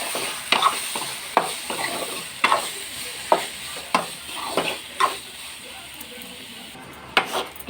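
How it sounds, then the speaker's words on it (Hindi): Tomatoes fry in masala in a pan, with a soft continuous sizzle broken by sharp spoon scrapes and stirring strokes roughly every second, close and clear with no talking. "अभी तार बाद इथि देमा टमाटर, टमाटर टिके भाजी देमा।"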